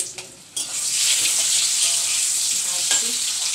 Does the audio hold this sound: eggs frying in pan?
yes